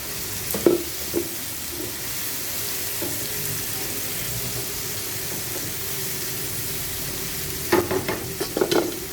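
Shrimp frying in a pan with tomato and onion give a steady, soft sizzle, with a few louder scrapes and stirring clatters near the start and end.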